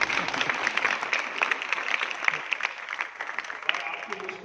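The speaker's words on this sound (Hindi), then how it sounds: "जरा ताली बजाइए लोगों के लिए।" An audience at a Hindi motivational speech applauds with dense, continuous clapping, individual claps popping out of the steady wash, fading slightly toward the end.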